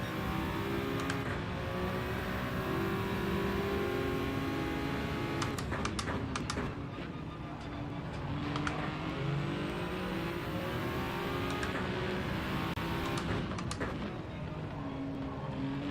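Race car engine in Gran Turismo 7 during pace laps, a continuous steady drone with shifting pitch and occasional sharper gear-change clicks, running alone without talk.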